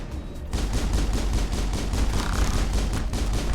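Gunfire in the Mass Effect video game on Insanity difficulty, a rapid, evenly paced string of loud shots cracking one after another over a dense combat background, no voices.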